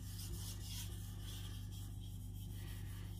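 A knife edge rasps steadily against a Kashima whetstone in short repeated strokes, a close, continuous scraping hiss under a low background hum, with no talking.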